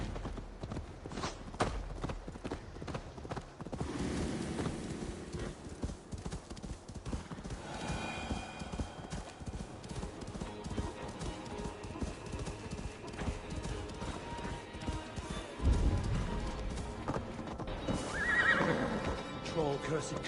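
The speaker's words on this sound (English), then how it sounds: "let's grab a horse and head out." Horse hooves clip-clopping at a steady gallop with a whinny in an Assassin's Creed Valhalla open-world scene, set against game music and ambience, with voice chatter over parts of the ride.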